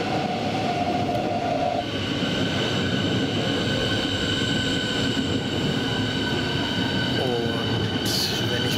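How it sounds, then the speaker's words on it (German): An S8 S-Bahn train pulls into Schöneweide station in Berlin, a steady loud rumble of wheels and carriages with a sustained tone and a brief squeal near the end, with some talking over it. "Und im Moment fährt hier eine S8 noch genau ein."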